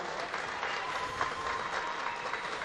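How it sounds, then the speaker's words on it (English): A high school football crowd applauds the home team, a continuous wash of clapping heard from a distance, fairly faint and even throughout with no clear voices on top. "the Hawks of Bethlehem Catholic getting a nice round of applause from their fan base"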